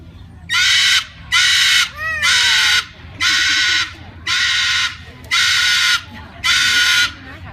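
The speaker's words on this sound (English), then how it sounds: "That's typically when parrots scream, sunrise and sunset." Loud parrot screams at a zoo bird show, seven harsh, evenly spaced bursts close to the microphone with brief gaps between them, over a low background murmur.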